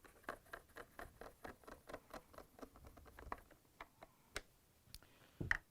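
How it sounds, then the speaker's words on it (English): A screwdriver drives 1/4-inch screws into the pocket handle on a GE dishwasher door, producing a quiet, steady run of rapid ratcheting ticks followed by a few sharper isolated clicks near the end. "now we're going to secure it with the 6 1/4-inch screws"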